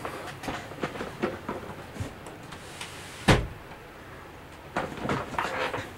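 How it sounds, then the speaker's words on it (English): A train passing at night, heard from indoors near a window: a distant rumble with irregular clanks and rattles, one sharp bang midway, and the noise building again toward the end. "I know that train's about to blare its whistle."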